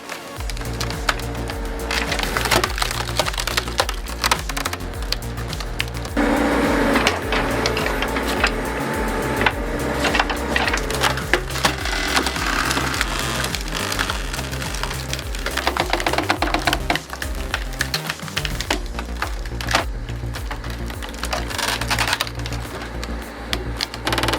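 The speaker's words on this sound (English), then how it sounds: "The ZSH45MAG features a robust screw cylinder cutting mechanism" A ZSH45MAG screw cylinder wood splitter bores into large wood blocks about 16 inches long, producing a loud, constant mechanical grinding with crackling and splintering of wood over a steady low drive hum.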